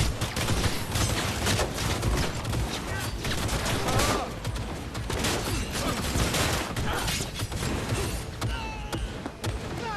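Rapid gunfire in the Cyberpunk 2077 video game, dense bursts of shots mixed with game effects and music, loud and continuous throughout with brief voice fragments.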